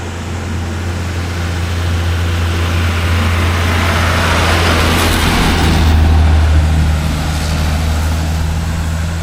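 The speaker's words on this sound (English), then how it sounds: "A bus." A bus passes on a hillside road near Nagarkot, Nepal, its heavy engine giving a loud, low, steady rumble that swells slightly at mid-pass, with no talking.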